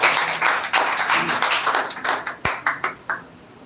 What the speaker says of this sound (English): give a huge round of applause for Umang Vibhor